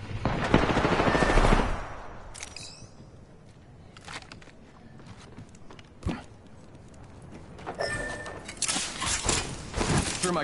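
Bursts of gunfire and explosions in an online battle-royale shooter, a loud cluster at the start, then scattered sharp shots and a dense run of fire near the end, with fainter game noise between.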